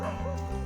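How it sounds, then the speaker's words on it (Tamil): A dog chasing along a rural road near paddy fields gives short yipping barks mixed with whimpering, close and fairly loud. "நாய் துரத்தி கொண்டு வருது."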